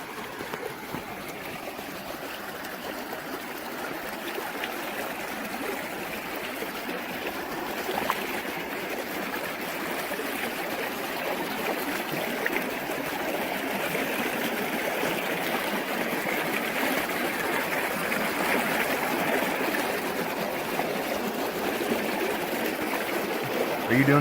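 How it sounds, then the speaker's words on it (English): A creek at Dolly Sods in June flows steadily in a constant rushing, gurgling wash, moderately close and unbroken across the whole stretch. "this time I'm going to take you along as I try not to die crossing the creek."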